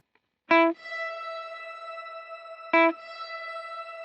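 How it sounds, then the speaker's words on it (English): Shimmer reverb effect pitched an octave up on a guitar: two plucked notes, each followed by a long, even, bright ringing tail with an added higher octave, clean and alone without talk. "we can hear how it just goes that octave up"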